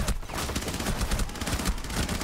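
Rapid gunfire from the video game Rainbow Six Siege crackles densely and loudly across the whole stretch, overlapping shots packed together like a fusillade, with no talk over it.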